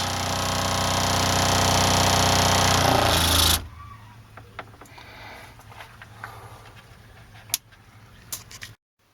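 An RV water pump runs loud and steady with a dense mechanical drone for several seconds, then cuts off abruptly, leaving a quiet low hum broken by a few sharp clicks and ticks.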